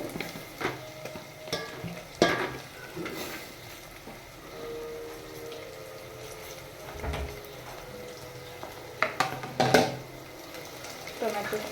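Tomatoes fry in hot oil for masala rice, giving a soft, continuous sizzle broken by several sharp clatters of a spoon stirring against the pan, with a few louder knocks near the start and end.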